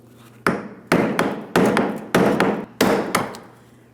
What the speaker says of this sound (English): So I'm using a brass punch and a hammer.